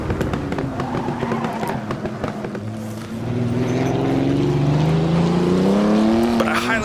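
A 1937 Auto Union race car engine on the Donington circuit in Assetto Corsa snarls loudly and close, its pitch climbing and falling through gear changes. Someone talks over it.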